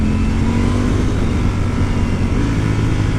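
A Ducati Panigale V4 S four-cylinder motorcycle on the road, downshifting with its auto-blipper, heard as a loud, continuous dense engine roar mixed with wind rush and no clear breaks.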